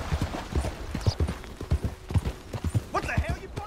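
Horse hooves clip-clop in Red Dead Redemption 2 as a steady, fairly close walking rhythm, with someone talking over them for much of the time.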